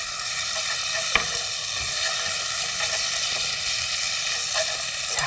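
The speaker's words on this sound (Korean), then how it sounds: "고기가 다 익으면 이제 김치를 넣어서 김치도 같이 볶아주세요" Meat and kimchi stir-frying in a pan, a steady broadband sizzle and crackle running throughout at close range with faint scraping of stirring, no voices.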